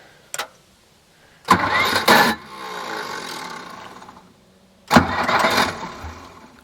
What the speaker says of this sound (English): That's why the starter's grinding.